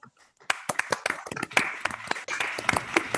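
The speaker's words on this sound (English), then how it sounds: "let's give them a big round of applause." Scattered applause from a small online conference audience of unmuted participants, uneven individual hand claps starting after a brief pause and building into irregular, thin clapping.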